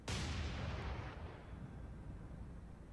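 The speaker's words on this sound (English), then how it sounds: "Kinda bugs me that those guns all shoot at the same time." Naval guns in the War on Sea video game fire together in one loud, booming broadside, then the blast rumbles and fades over a few seconds.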